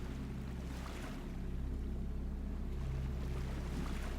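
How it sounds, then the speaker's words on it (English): Waves washing against rock on a shore in the video game Salt and Sanctuary, a steady, continuous surf wash heard alone with a deep low rumble throughout. "I woke to the sounds of waves washing on rock"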